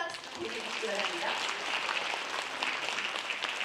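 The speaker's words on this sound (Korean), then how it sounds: "다시 한번 큰 박수 보내주시기 바랍니다" Audience applause at a Korean award ceremony, following a saxophone ensemble's performance, a steady dense wash of clapping lasting several seconds with speech faintly audible underneath.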